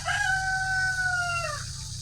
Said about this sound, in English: There's one rooster here. There's another rooster here.